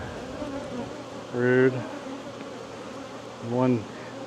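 Honey bees buzz from an open hive with a steady droning hum throughout, swelling as two louder, closer passes drift by.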